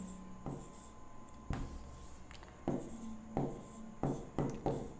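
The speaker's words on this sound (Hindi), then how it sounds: "तो इसको हम एक बार लिख लेंगे" Pen or chalk writing out a maths calculation, quiet and close, with short scratchy strokes and taps coming in irregular bursts against a faint hum.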